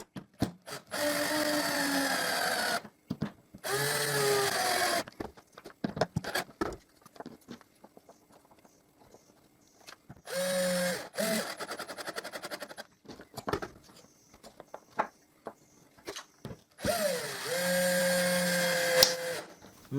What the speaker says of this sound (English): that screw split the wood when I was driving it